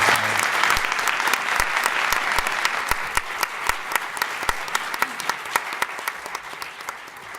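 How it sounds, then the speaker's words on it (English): Audience applauding at the close of a panel discussion in a multilateralism plenary, steady dense clapping with sharper individual claps throughout, sustained at an even level without talk. "I think you can applaud."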